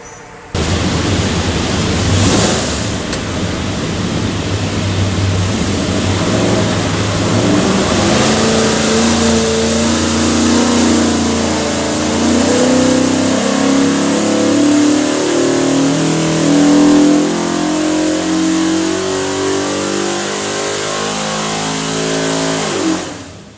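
A 502 hp 347 cubic inch Ford V8 built for a 1966 Mustang revs hard on a dyno, a loud continuous roar that climbs steadily in pitch through the run before cutting off abruptly.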